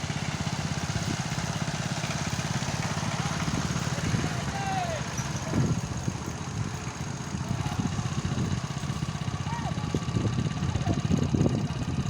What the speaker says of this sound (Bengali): পাওয়ার টিলার দিয়ে